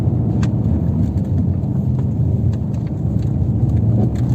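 A Peugeot 508 1.6 e-HDi diesel car accelerates on a mountain road, its engine and road noise forming a steady, loud rumble from inside the cabin with no talking.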